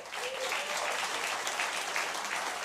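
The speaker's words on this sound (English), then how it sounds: "Big round of applause for all of them." Dense, steady applause from an audience at a Farm and Fun Time show, thanking the sponsors, fills the whole stretch with no voices rising above the clapping.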